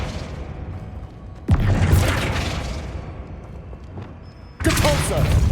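Casting of the Flipendo spell in the Hogwarts Legacy video game, heard as two sudden whooshing magical bursts a few seconds apart, each with a sharp attack that trails off into a shimmering decay.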